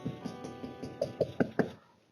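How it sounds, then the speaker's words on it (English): Knocking on a neighborhood house door captured by a doorbell camera, about nine quick knocks building in loudness, faint and a little distant, with no talk. "doorbell video shows him going around the neighborhood knocking on people's doors"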